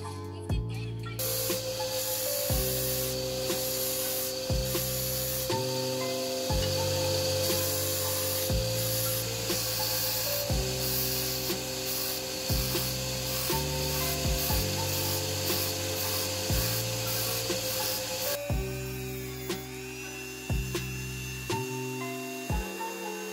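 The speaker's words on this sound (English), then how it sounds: "I sanded this outside a little bit to give it a better bond with the inside" A deer antler and resin ring blank sanded by hand, with continuous rubbing and rasping close up, set against loud steady background music that runs throughout.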